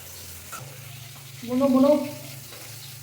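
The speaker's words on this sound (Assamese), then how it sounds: "মাছ ভাজিব লগাই দিছে মোক" Fish fries in a pan in a home kitchen, giving a steady, close sizzle throughout. A voice briefly speaks over it midway.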